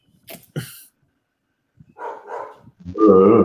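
A dog barks in short, excited bursts, with a couple of sharp yips early, then whining, higher-pitched barks building louder toward the end, close and otherwise quiet.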